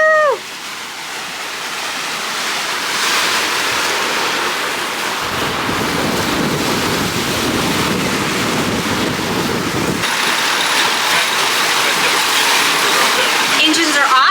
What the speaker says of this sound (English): Engines are off, which is a beautiful sound of just water in the back and no engines.